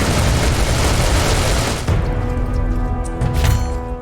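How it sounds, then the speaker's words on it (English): Dual miniguns roar in Serious Sam 4 as a horde is mowed down, a dense continuous loud barrage of rapid gunfire with booming impacts, briefly dipping near the two-second mark before surging again. "decimating a horde of Gunnar with dual miniguns"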